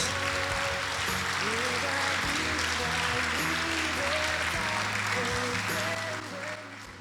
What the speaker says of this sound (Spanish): Un aplauso para nuestro Dios